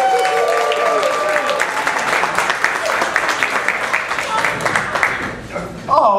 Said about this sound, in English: Give yourselves all a huge round of applause for being here.